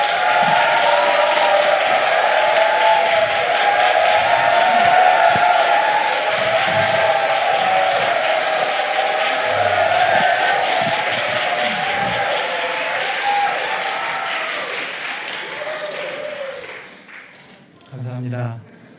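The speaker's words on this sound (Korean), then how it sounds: "이제 박수를 치실 차례입니다." Crowd of young adults and church members at a retreat event applauds and cheers, dense clapping spread throughout, fading toward the end where a voice briefly speaks.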